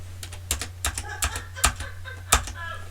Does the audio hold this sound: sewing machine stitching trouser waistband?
no